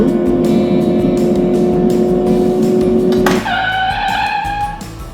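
A car engine with the accelerator pedal held down gives a sustained steady roar at high revs, then drops sharply near the end into a changed, thinner tone that fades. Close and loud, with no speech.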